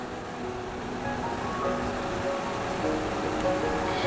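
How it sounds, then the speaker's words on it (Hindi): A waterfall of cool water flows with a steady, broad, close rushing wash that stays even throughout and has no pauses or voices. "यहाँ पर एक शीतल जल का बहने वाला प्रपात बह रहा है"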